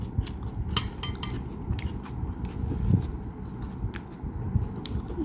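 Close, steady biting and crunchy chewing of food flavoured with lemon, continuing for several seconds with small crackles and scrapes and no talking.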